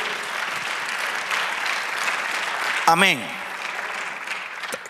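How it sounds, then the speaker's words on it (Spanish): A church congregation claps for the Lord in a sustained, even burst of applause, with a voice briefly calling out partway through. "Dele aplauso al Señor."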